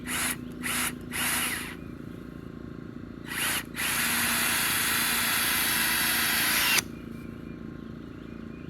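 Power drill bursts driving screws into a wooden joist while building a tractor barn: several short whirring runs, then one long sustained drive of about three seconds, loud and close with no talk.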